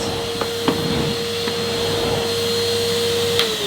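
A Hetty Next 200 vacuum cleaner works over thick Saxony pile carpet. It makes a steady, close, continuous motor drone with a high whine, and the pitch dips slightly near the end.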